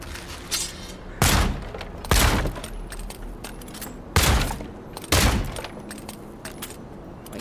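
Double pistols fire in the video game Avowed as four loud, sharp broadband bursts in two spaced pairs, each trailing into a short decay. Faint background game noise sits between them, and no one talks.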